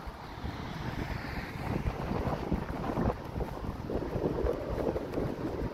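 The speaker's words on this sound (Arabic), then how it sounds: "كاين شوية د الريح، نتمنى ما يكونش ضدنا في الطريق." Wind buffeting the microphone while cycling on a road toward a dam, a continuous rough low rumble that swells and fades in gusts throughout.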